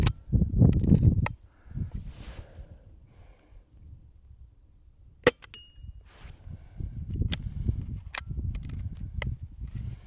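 A quiet Umerex Notos CRK BB gun fires a few faint, sharp cracks spread across the clip, mixed with rustling and handling noise outdoors, with no speech.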